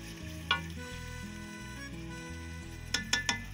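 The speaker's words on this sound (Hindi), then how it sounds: "और अब हम इसे करेंगे अच्छे से मिक्स।" Mixed vegetables fry in a pan as spices and turmeric are stirred in, a continuous close sizzle with a sharp utensil knock early on and three quick clanks against the pan near the end.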